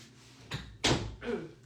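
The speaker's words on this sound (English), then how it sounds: "I'll close the door" An indoor door swings and bumps shut in a couple of soft thuds, the loudest knock in the middle, close by with no talking.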